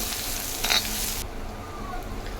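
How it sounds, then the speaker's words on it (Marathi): Chopped onion sautéing in oil with garlic, curry leaves and mustard seeds in a village Konkan kitchen, a steady close sizzle with a brief stirring clatter, the hiss dropping partway through. "कढीपत्ता, मोहरी, बारीक चिरलेला कांदा, परतून घ्यायचा कांदा जरा."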